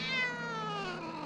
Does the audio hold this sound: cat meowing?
yes